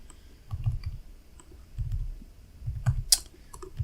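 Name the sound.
computer keyboard clicking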